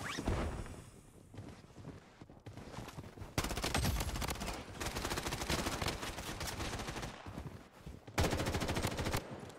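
Automatic gunfire in the shooter game Blood Strike, fired with an M4A1 rifle in loud sustained bursts broken by short pauses, with no talking over it.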